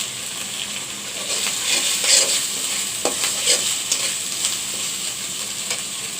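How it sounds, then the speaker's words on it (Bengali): A spice paste for a kochur loti and shrimp dish sizzles in a pan while it is stirred and sautéed. Scraping stirs and crackles rise over a steady fry, close up, with no talking. "মশলাটা কষানো হয়ে গেছে"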